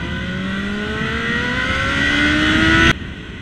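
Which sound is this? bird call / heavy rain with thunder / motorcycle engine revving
motorcycle engine revving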